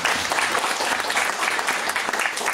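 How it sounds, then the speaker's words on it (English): A crowd at a Sunday festival at Hare Krishna Valley breaks into a big round of applause, a loud, dense wash of clapping that fills the whole moment with a few voices blended in. "big round of applause"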